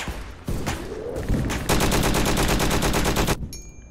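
Sustained automatic gunfire from a gun in a Roblox shooter, loud and rapid, with bursts building into a dense continuous stream of shots before cutting off abruptly.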